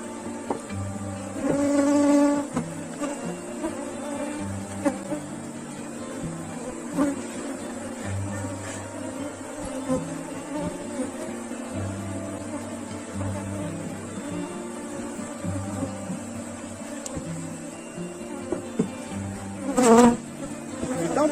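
A honeybee swarm buzzing at a beehive box, a dense continuous drone close to the listener that holds steady throughout, with a few brief louder swells and faint handling noises.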